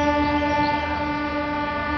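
Passenger train on the Jhanjharpur to Saharsa railway line in Bihar, a steady loud rumble of carriages with a sustained horn tone running throughout, heard from aboard with no talk.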